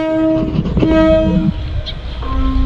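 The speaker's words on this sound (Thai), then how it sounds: "รถไฟมาพอดีนะครับ" A train pulls into a station nearby, its horn blaring in loud sustained tones over the rumble of rail cars.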